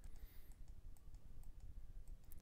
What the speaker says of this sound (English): Click, click, click, click.